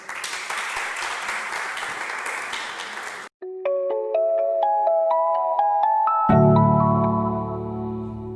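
A crowd at a business support programme launch applauds its client entrepreneurs with about three seconds of dense, even clapping that cuts off abruptly, followed by a bright chiming melody and deeper tones.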